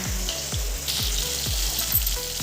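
Fish pieces fry in a pan with a loud, close, continuous sizzle and crackle, over a regular low thudding pulse.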